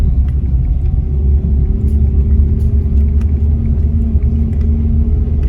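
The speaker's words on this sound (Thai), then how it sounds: "รถเร่งเนาะ" Near a mountain road in Phu Ruea National Park, a car accelerates uphill with a loud, steady engine drone and low rumble that holds the same strain throughout, and no one speaks.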